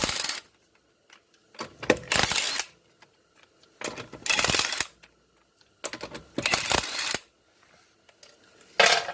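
Lug nuts being removed by hand from a 2007 Pontiac G6 wheel after loosening with a breaker bar and 19mm socket: several separate bursts of metallic clinking and rattling, close and fairly loud, with short quiet gaps between.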